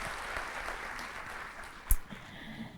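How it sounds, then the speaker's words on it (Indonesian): A church congregation claps in applause during a Sunday worship service, a dense, continuous patter of many hands filling the space, with one sharper clap standing out near the end. "Yang mau kasih tepuk tangan dong buat Tuhan kita Yesus Kristus"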